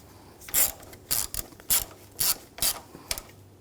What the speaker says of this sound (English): And we'll tighten those down.